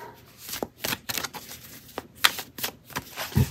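Tarot cards are shuffled in quick, uneven riffles and snaps, close by, with short pauses between bursts and a soft thump at the end.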